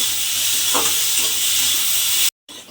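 Pointed gourd (potol) fries in hot oil, giving a loud, steady sizzling hiss close by, with a faint clink of stirring partway through and a brief cut to silence near the end.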